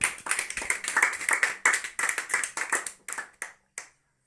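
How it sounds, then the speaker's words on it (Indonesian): A class of children claps together in a loose rhythm, a run of sharp, close hand claps that slows and thins to a few last scattered claps before falling silent. "Tepuk tangan dulu."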